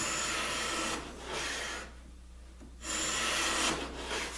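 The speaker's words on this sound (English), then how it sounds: "I just need to shave a little bit off of the width here. So all I do is just run it against the edge." A hand tool shaving wood off the width of a drawer bottom against an edge, several rasping passes of steady scraping broken by a short pause, close and fairly loud with no talking.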